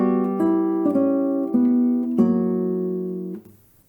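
Classical guitar playing a short Sor study passage in a crisp dotted rhythm: a few clean plucked chords and notes ringing close and clear, then fading out.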